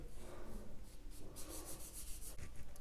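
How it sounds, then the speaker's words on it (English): A 3/4 inch brush rubs acrylic paint across canvas while painting misty mountains, a steady close scratchy swishing with brief brighter strokes, continuous and alone. "I'm still using the 3/4 inch brush."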